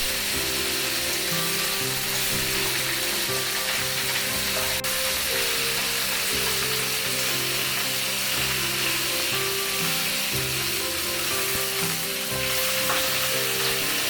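Scrambled eggs and frozen mushrooms tempered in a pan: a loud, steady, close sizzle runs throughout, with occasional scrapes and clinks of stirring and a faint hum underneath.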